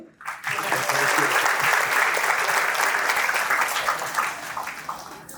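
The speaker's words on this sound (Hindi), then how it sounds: "ताली बजा दें।" An audience breaks into sustained applause, a dense wash of clapping that swells quickly and slowly tapers off.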